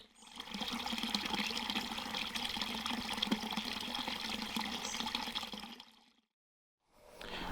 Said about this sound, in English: this well here, just on the edge of Stow-on-the-Wold town centre here in Gloucestershire in the Cotswolds, is running freely